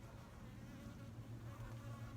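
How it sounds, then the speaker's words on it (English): A bee buzzes near flowers in a steady, droning hum that stays close and fairly faint throughout, with no voices. "Hummingbird just came, and the sweet bee."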